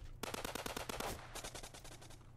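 Rapid gunfire from a weapon in the online shooter game Blokpost, a burst of about a dozen sharp, evenly spaced shots, a short pause, then a second, slightly softer burst.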